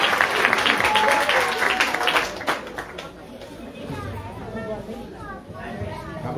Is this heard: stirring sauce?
no